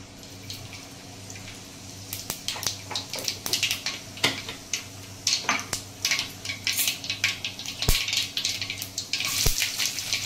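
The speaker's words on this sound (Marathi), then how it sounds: "त्याच कढईमध्ये मी आता तेल घालून घेतलंय। आता तो मोहरी घालून घेते, जिरं मोहरी" Mustard and cumin seeds sizzle in hot oil in a kadhai for a Maharashtrian green bean bhaji, a close, steady frying hiss broken by many sharp pops and crackles throughout.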